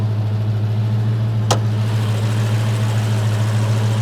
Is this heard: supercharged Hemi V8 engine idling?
yes